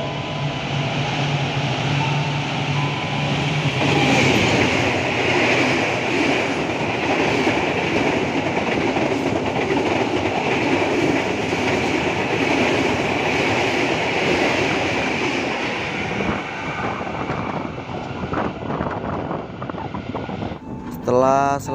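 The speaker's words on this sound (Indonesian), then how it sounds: "KA Singasari kembali diberangkatkan dari stasiun Jatibarang Kabupaten Indramayu" The KA Singasari passenger train departs Jatibarang station in Indramayu with a loud, continuous rumble and the rhythmic clatter of wheels on rail. A voice speaks over it, and the noise eases near the end.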